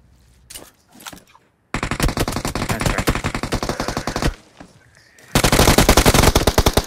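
MG3 machine gun fire in a competitive shooter video game: loud sustained bursts of rapid automatic shots, a short burst early, a long stretch of firing, then another heavy burst close up.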